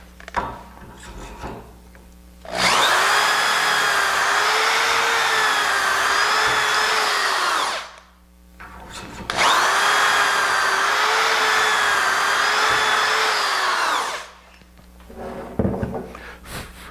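A power drill whines loudly through two long bursts of drilling dowel holes, each lasting several seconds, separated by a short pause, with quiet clunks in between.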